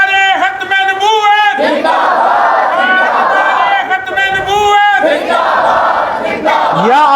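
A large crowd at an Islamic religious gathering chants slogans in loud rhythmic unison, answering a leader's calls in repeated bursts, close and powerful throughout.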